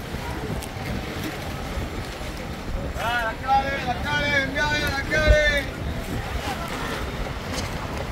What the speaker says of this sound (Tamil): காற்று கடுமையாக இருக்கு போய்.